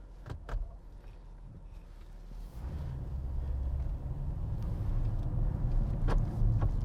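A 2012 Mercedes-Benz CLS63 AMG on a test drive, its engine and road noise building into a steady, fairly loud rumble from inside the cabin, with a few brief clicks near the start and no talking.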